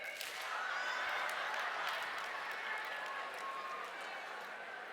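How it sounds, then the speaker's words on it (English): An audience at a keynote talk joins in a group chest clap, making a dense, steady wash of clapping and crowd noise that holds level for several seconds. "Power team chest clap."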